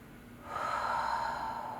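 A slow, deep breath during a yoga glute stretch, an audible airy exhale swelling after a moment of quiet and holding steady, close and alone.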